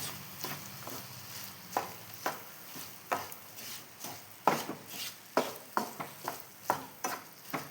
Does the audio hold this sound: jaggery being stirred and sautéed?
yes